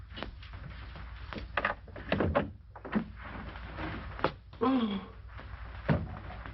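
A locked door in an old 1938 detective film being worked with a key and pulled open, a run of close clicks, rattles and wooden knocks with a soft thud.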